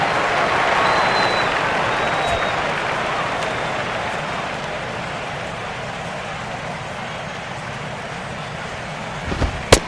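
A baseball stadium crowd in MLB 12: The Show roars in a steady, dense wash of cheering and clapping, loud and continuous, ending with a couple of sharp knocks near the end.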